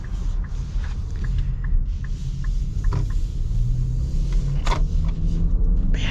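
Turbocharged four-cylinder engine of a 2026 Nissan Murano Platinum accelerating, a steady low droning rumble heard from inside the cabin with faint rising engine tone and no talk.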